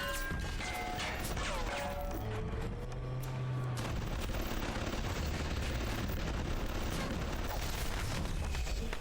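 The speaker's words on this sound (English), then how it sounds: "I'm gonna let them shoot the Big Daddy for me." Sustained gunfire rattles at the Big Daddy in BioShock, a dense continuous barrage of rapid shots and crashing impacts over a busy game soundscape, with no talking.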